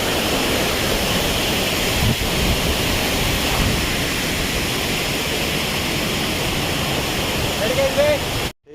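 Steady rushing roar of a waterfall at Mainpat fills the scene, constant and broadband, with wind buffeting the microphone now and then.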